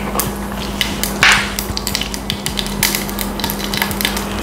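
Mustard seeds sizzling and popping in hot oil in a home kitchen, a close crackling hiss dotted with sharp pops and bursts over a faint steady hum.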